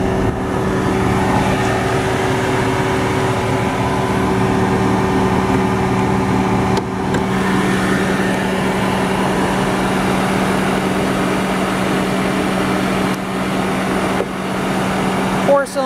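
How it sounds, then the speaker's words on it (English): A 2010 Ford Fusion Hybrid's engine idles steadily and smoothly with a low, even hum and a faint tonal whine, close by and continuous. "Cylinder hybrid engine absolutely purrs"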